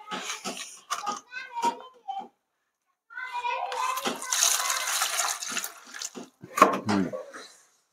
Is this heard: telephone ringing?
no